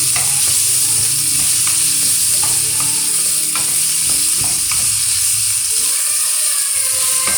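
Chicken Manchurian frying in a pan with a stock cube, sugar and salt, a loud steady sizzle close up with scattered clinks and scrapes of a spoon stirring, no voices.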